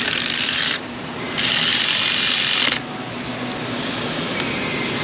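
Ratchet tightening a spark plug into a 4.6 V8 on a 1994-2004 Ford Mustang GT, heard as two bursts of dense, fast clicking up close, then a quieter steady mechanical hiss.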